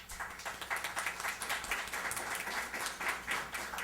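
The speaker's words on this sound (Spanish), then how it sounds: "A todos ellos recibimos con fuertes palmas" An audience applauds, a dense patter of many hands clapping steadily for a few seconds without voices.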